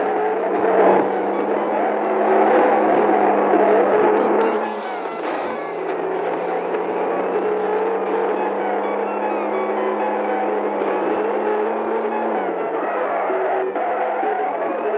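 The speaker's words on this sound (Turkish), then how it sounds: "Şimdi gazı kökleme var." Ford Connect van engine held at full throttle in a driving video game during a police chase, a steady loud droning whine that drops slightly partway through, then holds constant to the end.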